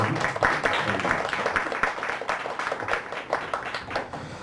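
Applause from a church congregation right after a closing prayer, a dense, steady patter of many hands clapping at moderate distance, lasting the whole span and tapering only slightly toward the end.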